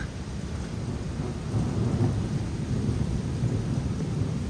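Thunder rolls low and heavy through a wind-driven rainstorm in Plano, Texas, with a steady rain wash underneath and a swell of rumbling in the middle.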